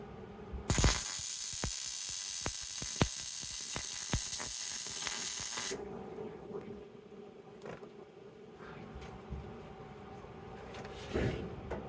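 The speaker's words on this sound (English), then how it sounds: "we're welding her up a little bit here" Welding on a Morris Minor car body, a loud, harsh hiss and crackle running for several seconds with sharp pops, then cutting out to quieter shop noise and occasional clanks.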